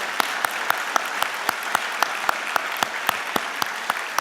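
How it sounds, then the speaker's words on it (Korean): A church congregation joins in unison clapping of thanks during a Wednesday service, a steady, evenly spaced rhythm of sharp claps repeating roughly four times per second, with no talking. "우리 다시 한번 수고의 감사 박수를 올려드리도록 하겠습니다."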